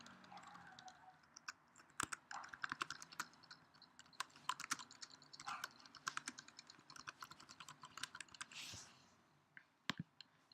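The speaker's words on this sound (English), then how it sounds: "Next, you just type whatever you're gonna do." Someone types on a Mac computer keyboard, giving quiet, close, irregular bursts of key clicks with a few louder taps, and no speech.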